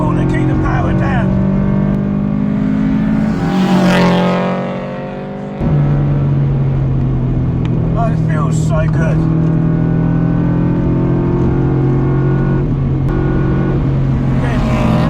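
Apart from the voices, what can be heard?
Subaru BRZ car engine while driving hard through corners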